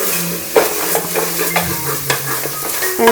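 Onions and salt stirred with a wooden spoon in a hot pan, a steady sizzle with scraping strokes and soft knocks against the pan, close and fairly loud.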